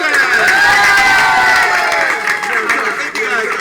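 A studio audience at the WIT show bursts into loud, sustained cheering, whooping and clapping, dense and close throughout with high shouted voices on top.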